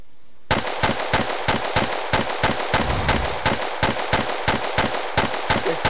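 An automatic turret in the Mutilate a Doll 2 video game fires a rapid, evenly spaced burst of loud close shots that starts abruptly after a brief quiet moment and keeps going without pause.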